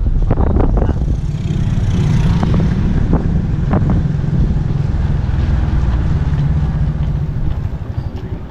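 Strong wind on a beach beside a moored boat, buffeting the microphone in a loud, roaring gusty rush with some flapping bursts early on, steady and close throughout.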